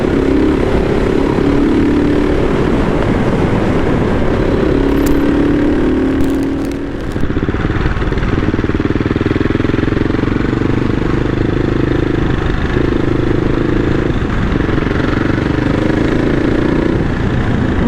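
A CCM Tracker British motorcycle cruises at about 40 mph on country lanes, its engine a loud, steady drone blended with wind rush throughout, with a brief dip midway.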